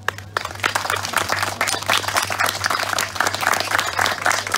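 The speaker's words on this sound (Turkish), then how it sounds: "Bunun için onları kutlayın ve alkışlayın lütfen." A crowd applauding at a stage presentation about Gördesli Makbule Efe: dense, loud clapping that runs continuously throughout, with no speech over it.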